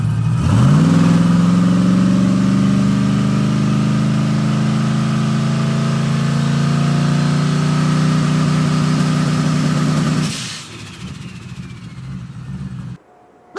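A turbocharged car engine on two-step launch control jumps to a held high rev and holds a loud, steady, buzzing note for about ten seconds, then drops off abruptly into a rough idle.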